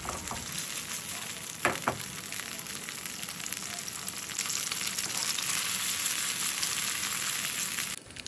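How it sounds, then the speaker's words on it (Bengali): Shrimp fry in a pan, a steady close sizzle that swells louder partway through, with a couple of brief utensil scrapes early on and no talking. "চিংড়ি মাছগুলো দুই পাশ ভেজে একটু তুলে নিলাম"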